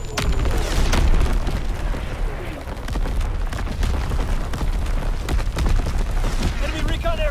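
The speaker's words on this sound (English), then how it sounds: "Incoming enemy artillery!" Enemy artillery shells exploding during a Call of Duty WWII team deathmatch on Gibraltar, with repeated heavy booms and bursts at close range in a dense, continuous barrage, under a voice calling out in the game.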